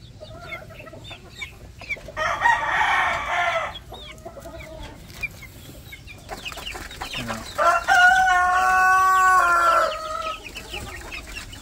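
Roosters and young chickens on a poultry farm: a close rooster crows twice in long strained calls, with scattered clucks and chirps from the flock around them.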